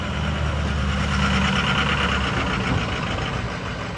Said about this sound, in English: work trucks going past.